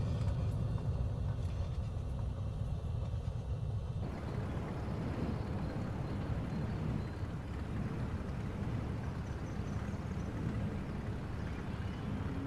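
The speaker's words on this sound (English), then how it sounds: "Applying brakes with a slight touch." Simulated aircraft braking on a runway after touchdown in Microsoft Flight Simulator, a loud steady rumbling roar that thickens partway through and continues unbroken, with no voices.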